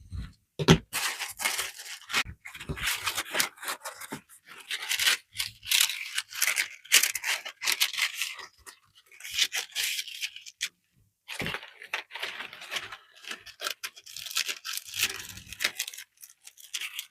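Green crepe paper is cut and handled at close range, giving repeated crisp snips, rustles and crinkles in irregular bursts with short pauses between them.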